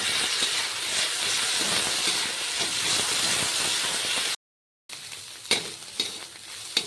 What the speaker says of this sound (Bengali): এবার পেঁয়াজের সাথে চিংড়ি শুটকিগুলোকেও ভালো করে ভেজে নেব